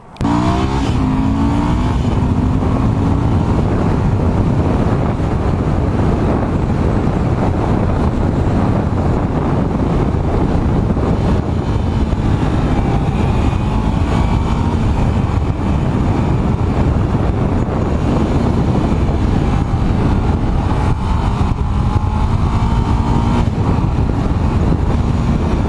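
Loud, steady engine and wind roar from a Ducati Multistrada 1100S motorcycle being ridden on the road, with continuous rumble and rushing air noise throughout and no talking.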